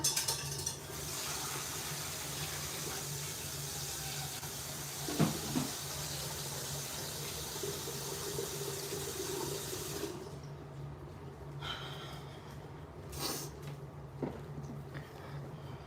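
Tap water runs steadily into a kitchen sink, a broad continuous rush that stops abruptly partway through, followed by quieter room sounds and a few light clunks.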